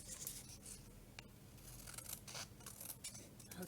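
Scissors cut through paper nearby as faint, repeated snips and soft slicing crunches against quiet room noise.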